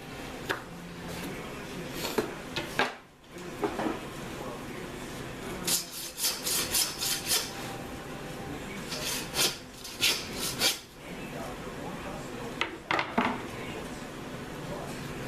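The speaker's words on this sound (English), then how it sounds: "Cut down till you hit bone." A knife cuts through a raw pork shoulder down to the bone during pig butchering, heard as soft, close scraping and rasping strokes with short pauses and a few light clinks.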